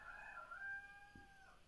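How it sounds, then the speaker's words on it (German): A rooster crows once at a moderate distance, a drawn-out rising then falling call lasting over a second against a quiet background, with no talking. "Jetzt kräht der Hahn."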